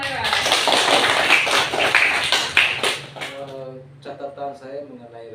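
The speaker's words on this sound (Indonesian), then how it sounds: "Ya, tepuk tangan untuk Humaira" Classroom applause for a student: a few seconds of brisk, crackling clapping from a group, which gives way to an adult voice speaking.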